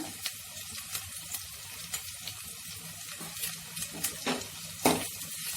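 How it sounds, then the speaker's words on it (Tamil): Onion, curry leaves and green chilies sauté in a pan for a country-chicken gravy: a constant sizzle punctuated by repeated spoon scrapes and knocks against the metal, with a louder clatter near the end. "லைட்டாக வெங்காயம் வதங்கின உடனே கருவேப்பிலை போட்டுக்கோங்க. பச்சை மிளகா சேர்த்துக்கோங்க."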